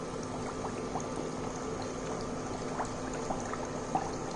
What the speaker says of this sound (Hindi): अब हम इन्हें डीप फ्राई करेंगे